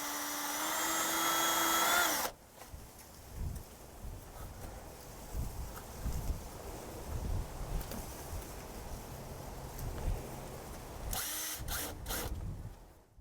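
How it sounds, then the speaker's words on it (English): A power drill whirs loudly for about two seconds, boring a hole in the top of a manhole, then falls quiet under wind noise and scattered handling thumps before a short second burst of drilling near the end. "The next procedure is to drill a hole in the top of the manhole to attach the information tag."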